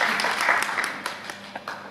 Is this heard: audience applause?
yes